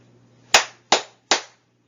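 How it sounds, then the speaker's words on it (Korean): Three sharp, evenly spaced claps ring out in unison from a group at the close of a lecture on blocking illegal spam, each crisp and loud with a short decay, against an otherwise quiet room. "박수 3번 치고 마치도록 하겠습니다."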